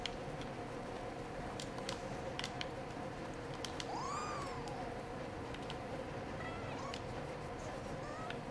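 A cat meows once in the video game Nioh 2, a clear rising and falling call with a fainter second mew later, heard over a steady low game ambience and scattered clicks.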